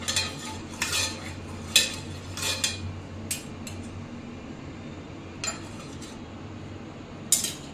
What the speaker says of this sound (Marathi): आता इथे तवा मी तापत ठेवलाय, त्याला तेल लावून घेते। अगदी थोडंसं तेल लावून पसरवून घ्यायचंय।